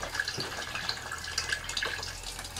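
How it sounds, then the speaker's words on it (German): Water from a rain-barrel hose splashing and pattering onto the soil inside a sunken greenhouse, a soft continuous trickle with faint drips. "der plätschert hier jetzt"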